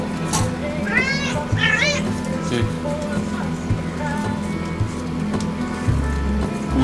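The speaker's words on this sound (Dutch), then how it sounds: "Een poes." A cat meows several times at an animal shelter among other cats, with people talking throughout and rain-like background noise.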